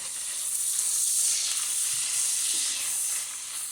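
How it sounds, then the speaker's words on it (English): Blended tomatoes and onion sizzle in a pan with frying beef, a steady, even hiss that holds for the whole stretch at moderate, close level. "I will add in my tomatoes and onion"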